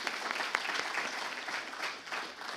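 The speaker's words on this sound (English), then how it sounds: "can we give MCA a round of applause for that?" A room full of people at a Muslim community service awards event at East London Mosque claps warmly for a few seconds, a steady, even patter of applause with no voices on top.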